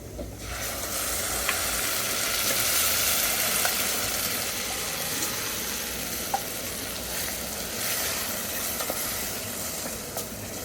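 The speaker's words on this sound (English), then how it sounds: "once the onion is well cooked, we are going to add the meat." Beef dropped onto cooked onions in a hot pot for stew sizzles loudly and steadily, with occasional stirring clinks, no voices over the frying.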